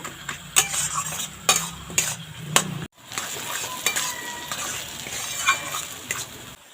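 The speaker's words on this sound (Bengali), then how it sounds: "আলুটা এইভাবে একটু থেতো করে নিলাম" Potato is mashed and stirred in a pan for a flour-and-onion snack: close, repeated spatula scrapes and taps against the metal over a light sizzle, with a brief break midway and no talking.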